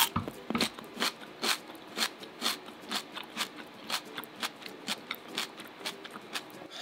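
Repeated crisp crunches of someone biting and chewing a crunchy Japanese convenience store snack up close, about two bites per second, sharp and dry.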